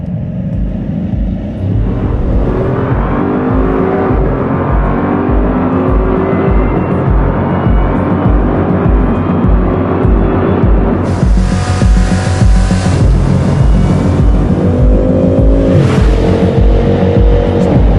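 Bugatti Chiron at full throttle, accelerating toward a 420 km/h top speed: a loud, continuous engine roar heard from inside the car, with rising gear-by-gear sweeps and heavy rumble throughout.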